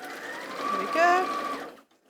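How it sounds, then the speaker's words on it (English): A sewing machine stitches along the bottom edge of a Christmas fabric piece in one short run that swells and then cuts off, with a voice talking faintly over it. "I'm just going to sew along that bottom edge there"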